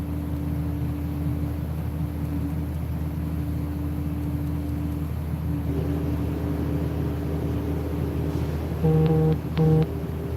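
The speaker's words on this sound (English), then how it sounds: "I'd say you can probably hear that noise. That's the rubbish truck." A rubbish truck working outside: a steady low engine drone heard from indoors, continuous and muffled, with a couple of short electronic beeps near the end.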